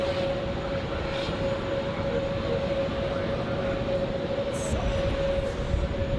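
Edelweiss Airbus A350 jet taking off at Zurich Airport, a steady broad engine roar with a constant whine, heard from a distance and holding an even level throughout, with no one talking.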